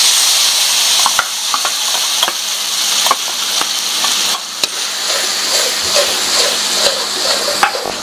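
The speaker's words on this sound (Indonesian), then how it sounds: "Sekarang kita tumis." Shallots, garlic and curly red and orange bird's-eye chilies sizzle and fry steadily in a hot pan, with a bright continuous crackle broken by occasional clicks and scrapes of stirring, close up and with no talking.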